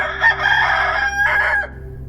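A rooster crows once in a long, loud, drawn-out call with a brief dip and a rising final phrase, heard alone and close.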